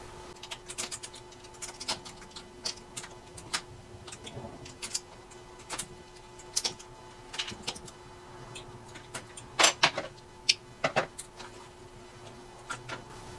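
A knitting machine casting off the last stitches of a scarf hoodie: scattered close clicks and ticks of carriage and latches with soft clacking bursts, brief metallic rattles, and a faint steady hum underneath.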